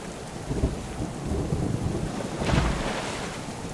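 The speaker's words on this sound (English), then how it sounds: "then we'll go up on the roof in this storm" Thunderstorm in the survival game Subsistence: steady heavy rain hisses throughout while thunder rumbles low and swells into a louder roll, with no voices.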